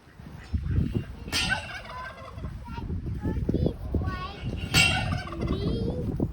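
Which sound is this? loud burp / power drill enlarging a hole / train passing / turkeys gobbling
turkeys gobbling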